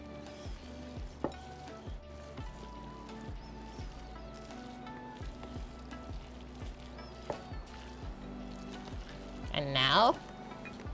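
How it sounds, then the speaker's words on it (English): Toasted hazelnuts, still warm, are stirred into a dessert mixture, giving soft, repeated scraping and rustling that stays faint beneath a low hum, with a louder swirl near the end. "So now we're just gonna mix in the toasted hazelnuts."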